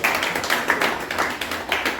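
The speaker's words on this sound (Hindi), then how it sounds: "तो हाथ से ज्यादा तालियां मिल रही ना मुझे।" An audience at a service society's assembly breaks into applause: a dense, steady patter of many hands clapping at once, moderately loud and close, with no talk over it.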